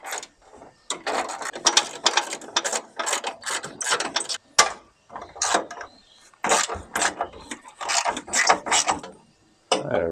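Ratchet with a 12mm socket and extension backing out long radiator bolts on a 1971 Toyota Celica TA22, loud rapid clicking bursts repeated in quick strokes with brief pauses between.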